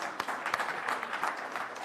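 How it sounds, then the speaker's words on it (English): Audience at a live community meetup giving a short round of applause, a dense spread of clapping with a few sharper individual claps, fairly close but not loud. "Big round of applause for Jack."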